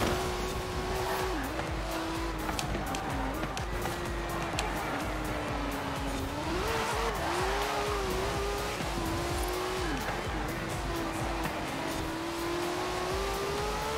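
Loud, steady engine drone of a Ford Transit Supervan 3 cornering in Forza Horizon 4, its pitch wavering as it brakes and accelerates through bends, with occasional tire squeal.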